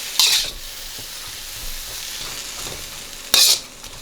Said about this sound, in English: I'm adding all my ginger and garlic. I'm going to cook that for another minute